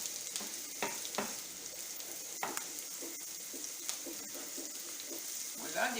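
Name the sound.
sautéing green and yellow bell peppers in a pan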